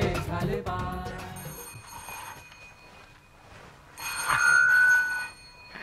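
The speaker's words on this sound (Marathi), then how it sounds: "सारखा फोन वाजतो" A telephone rings in short electronic bursts, clear and fairly close, with a quieter gap between ring phrases and no talking over it.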